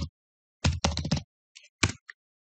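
Keyboard keys tap out a short command in AutoCAD, several close clicks in quick succession, then a final firmer keystroke for Enter, close and clear against silence.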